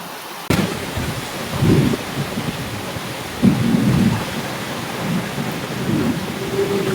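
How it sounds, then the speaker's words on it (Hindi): Heavy monsoon rain pours steadily while thunder cracks sharply once and rumbles again a few seconds later, loud and close, with no talking. "क्या ही तेज बारिश हो रहा है"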